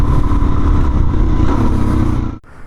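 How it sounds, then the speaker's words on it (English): A 2019 Suzuki DRZ 400 motorcycle ridden on an open road, its engine a loud, close, steady drone with rumbling low tones before it drops away abruptly near the end. "now we are out on the actual open road with the DRZ 400"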